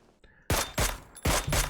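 Gunshots in a multiplayer shooter match, three sharp loud blasts roughly a third of a second apart, each with a short decaying tail, after a brief quiet lead-in.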